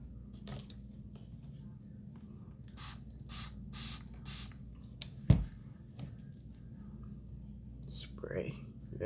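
Adhesive remover sprayed onto a frontal lace wig in several short hissing bursts, close and fairly loud, with a sharp knock in between and quiet movement sounds.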